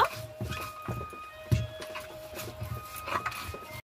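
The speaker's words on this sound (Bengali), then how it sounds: "পাতা শিলনোড়ায় বেটে নিয়েছি, আমার বাটা হয়ে গেছে।" Coriander leaves, fried dry chili and garlic are ground by hand on a shil-nora stone, with repeated rubbing, scraping and knocking strokes in an uneven rhythm, close by and moderately loud.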